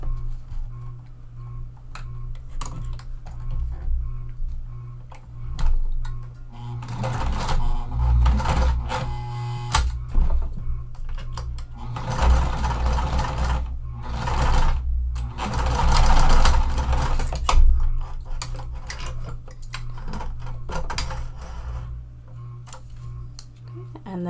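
A sewing machine top stitches webbing next to a D-ring connector on a pool tote, running in several short bursts with ticking pauses between them.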